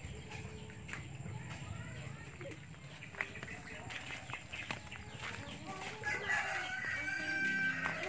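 Chickens and a rooster in a rural Philippine garden setting, crowing and clucking intermittently at moderate distance over a busy outdoor background, with people talking nearby.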